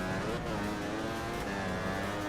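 A motorbike engine roars steadily and loudly in the racing game Valentino Rossi The Game on the Jerez track, a continuous high-revving drone with no talking over it.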